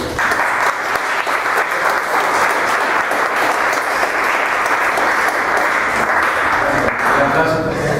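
Sustained audience applause at an in-person Sor Juana Inés de la Cruz event, a thick, even roar of many hands clapping for the full eight seconds, loud and steady with no break.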